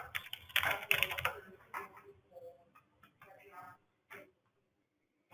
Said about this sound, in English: we'll type in our customer's name